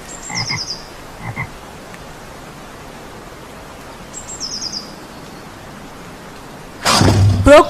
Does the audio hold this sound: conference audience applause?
no